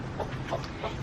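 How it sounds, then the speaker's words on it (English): Egg-laying hens cluck softly at feeding time on an urban farm, a few faint low clucks over a murmuring background, brief and somewhat distant. "first I feed the chickens and let them out"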